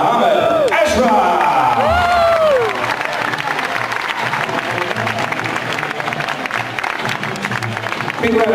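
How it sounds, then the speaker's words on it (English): Crowd at a combat sports fight night applauding and cheering after a unanimous decision, whoops and shouts rising early, then sustained clapping continuing under an announcer's voice. "Big round of applause also to the blue corner, Gunasamai Redanasam."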